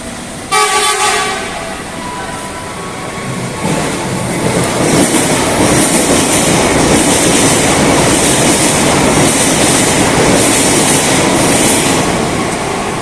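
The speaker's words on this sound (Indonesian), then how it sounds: "Wow, ada kereta bandara." An airport rail link train roars past up close, a loud continuous rumble and rush with a horn toot at the start, filling the whole stretch.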